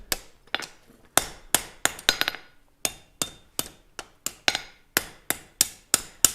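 Metal is hammered on an anvil beside a gas forge. About seventeen sharp, ringing blows land close and loud in an uneven rhythm, some in quick pairs and others after short pauses.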